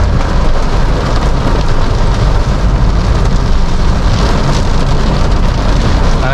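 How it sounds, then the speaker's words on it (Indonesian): Heavy rain drums steadily on a Toyota Calya E manual while driving through Malang in the late afternoon, a dense continuous roar with low road rumble underneath and no voices. "Kalian biasa dengar sendiri suara hujannya seperti apa, deras ya."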